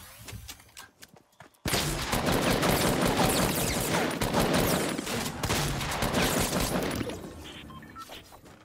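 Rapid gunfire from a Fortnite battle royale squad match, loud bursts of shots running almost continuously for several seconds after a quieter opening, with no talk over it.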